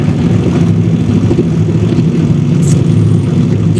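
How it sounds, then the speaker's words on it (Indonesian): Motorcycles with loud, modified open exhausts pass nearby, making a steady, heavy low roar that fills all four seconds without letting up. "berisik banget bocah-bocah pada pakai motor brong ya."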